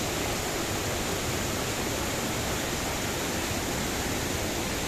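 Steady broadband rush of a river stream flowing at an Indonesian campground, loud and close, continuous with no breaks and no voices.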